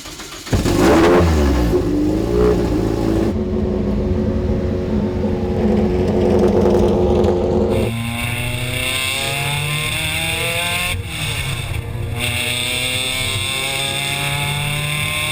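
Scion iQ MR race car build revving its engine at a shakedown, a loud close blip then sustained high revs holding steady, the pitch dropping and settling into a rough idle-like drone, with no talk.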